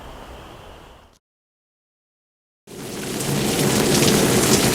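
Rain falling outside a tent beside a rain gutter on a backpacking trail in South Carolina, a dense close hiss that cuts to silence for a moment, then returns louder and heavier.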